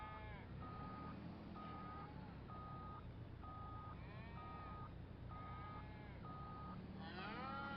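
Cattle moo and bleat repeatedly in Farming Simulator 25 while a reversing vehicle's alarm beeps in an even series of short tones, all fairly faint on a beef cattle ranch in the Panhandle.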